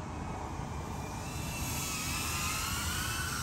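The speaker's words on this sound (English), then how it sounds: "You got a drone flying up there pretty fast." A drone passes fast overhead above train tracks in downtown Los Angeles, its steady whining buzz mixing with a broad, even roar of outdoor noise that swells slightly toward the end.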